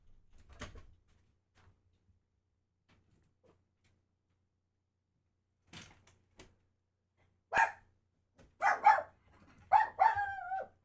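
Dogs barking in a house, a few sharp barks spaced out and growing more frequent toward the end, near and fairly loud against an otherwise quiet room.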